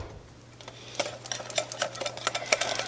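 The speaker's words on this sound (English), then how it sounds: "And just keep whisking." A whisk beats butter sauce for eggs Benedict in a bowl, producing quick, light, rhythmic metallic clicks and scrapes that start after a quiet moment and continue briskly at close range, with a low steady hum underneath.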